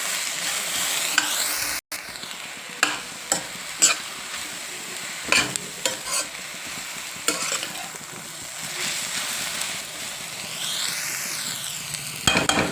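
Ivy gourd and tomato frying in a pan, a steady sizzle broken by repeated stirring scrapes and clinks of a utensil against the pan.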